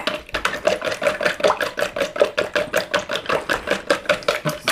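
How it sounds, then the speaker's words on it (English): Eggs being whisked for a cheese omelette, a rapid, steady rhythm of whisk strokes clicking against a bowl, close and fairly loud, with no talking. "give it a whisk"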